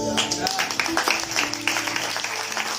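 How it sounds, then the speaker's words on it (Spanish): Congregation applauding during an evangelical church service, a steady dense clapping wash with an organ or keyboard chord sustained underneath. "Den un aplauso a Cristo."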